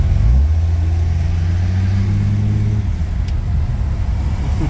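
A car pulls away nearby, its engine note rising in a loud, steady accelerating drone that fades into a rumble as it drives off.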